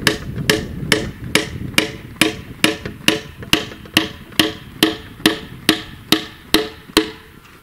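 Long nails are hammered in while a greenhouse is being covered, a steady run of about twenty loud, close, evenly spaced blows with no talk.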